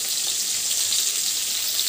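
A fish head fries in oil in a home kitchen pan, giving a steady, bright crackling sizzle at moderate volume with no voices.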